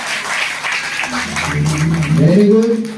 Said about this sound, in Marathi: जोरदार टाळ्या वाजवून कौतुक करा.